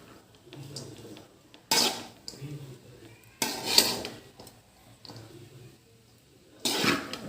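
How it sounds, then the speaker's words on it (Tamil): Potato rice is stirred in a pot, with three loud bursts of scraping metal against the pan separated by quieter stretches of light clinking and low background sounds. "நல்லா மிக்ஸ் பண்ணிக்கணும்."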